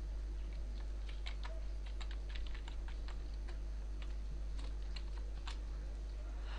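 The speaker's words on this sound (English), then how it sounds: "You could also type in a description." Quick, soft keystrokes on a computer keyboard as a description is typed in, steady clicking over a constant low electrical hum with no voices.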